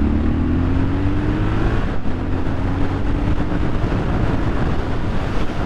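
Heavy wind noise roars past a rider on a 2023 Triumph Scrambler 1200XE motorcycle with no wind protection at freeway speed, a loud constant rushing blast over a steady engine drone with a slowly rising tone.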